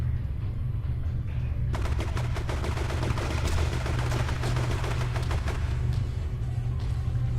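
.45 caliber gunfire in the superhero game Champions Online, a rapid sustained volley of closely spaced shots over several seconds, loud and near, set against a constant low background hum.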